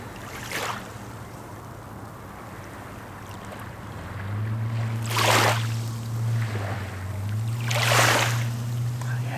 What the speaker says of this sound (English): How relaxing is the sea, by the way?